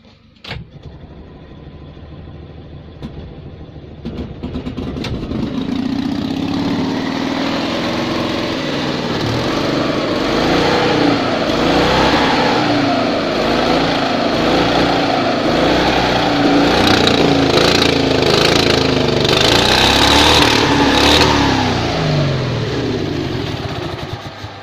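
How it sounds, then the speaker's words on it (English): An Invacar spares car's small engine, fitted with a transplanted carburetor and a blown exhaust, cranks with a few clicks and then catches into a loud, steady, buzzing idle that runs on close by with slight revving. "I think we can say that engine runs very nicely"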